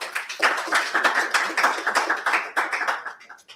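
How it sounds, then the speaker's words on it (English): A small audience claps for a speaker at a business and sports event, a brisk, close patter of hands that starts at once and then thins and fades over a few seconds, with no talking. "Please give a hand clap for Mr."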